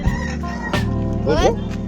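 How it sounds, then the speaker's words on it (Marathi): Roosters for sale cluck and squawk nearby in short bursts, with people talking underneath in a busy, crowded setting. "बघा आता आम्ही पहिलं कोंबडा घेतोय"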